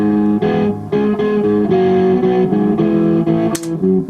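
Electric guitar reamped through a Marshall JCM 2000 amp model on a Digitech RP500, playing a sustained chordal riff with moderate gain, loud and close, with no voices.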